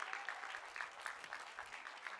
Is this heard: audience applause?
yes